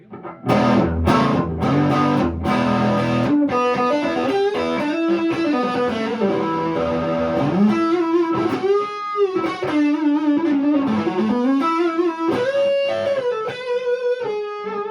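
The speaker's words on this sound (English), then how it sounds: "We're going to start on the distortion channel on the neck pickup." A 2018 Gibson Les Paul electric guitar played through a distortion channel on the neck pickup, with loud, sustained overdriven chords giving way to a melodic single-note lead line that bends and slides continuously, with no voice over it.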